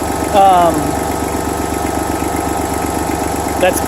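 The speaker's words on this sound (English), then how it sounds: "That's why the tractor's been running this whole time." A tractor engine chugs steadily with a low, rhythmic idle while its tires are filled, with a short high squeal near the start and another brief tone near the end.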